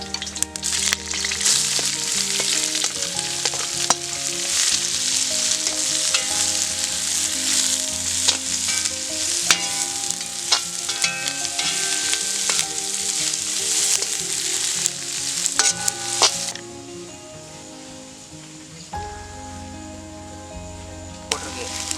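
Curry leaves, green chillies and onion frying in hot oil for a Kerala-style masala, giving a steady, loud, close sizzle with occasional stirring scrapes that thins out near the end.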